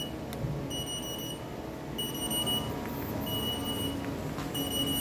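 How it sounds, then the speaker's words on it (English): A CNC lathe control panel beeps: a high electronic beep repeats in bursts with pauses between, over a low machine hum in a quiet workshop. "This beep that you hear right here, all you have to do is hit reset and it'll go away."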